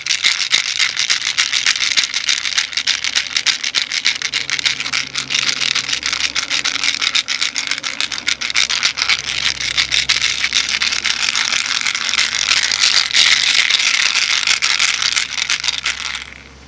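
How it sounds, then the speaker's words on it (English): A shaman's rattle shaken loudly and steadily, a dense continuous stream of rapid dry clicks sustained for the whole stretch without pause. "If you use the rattle to become present, it's probably going to be louder."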